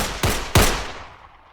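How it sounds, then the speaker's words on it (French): Two sharp gunshots ring out in a hall, fired about a third of a second apart, each loud and close with a broad crack followed by a reverberant tail that fades over the next second. "des coups de feu se font entendre dans le hall"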